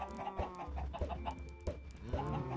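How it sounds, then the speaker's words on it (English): Chickens in the Minecraft video game clucking in quick, repeated bursts, several birds overlapping at close range and fairly loud, with no talk. "A full stack of chickens."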